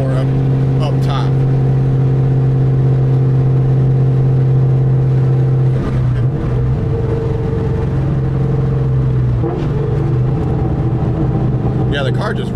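A 1999-2004 Mustang with the 2V V8 and Pacesetter long tube headers revs loudly and steadily, its deep exhaust drone holding throughout with shifts in pitch as the engine climbs, while someone talks over it.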